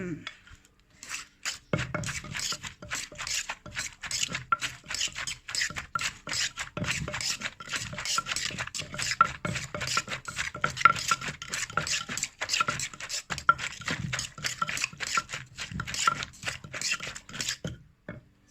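Thai cucumber salad (tam taeng) being pounded and mixed in a mortar, with fast repeated clattering, scraping and knocking strokes that continue steadily at close range, and a faint voice occasionally underneath.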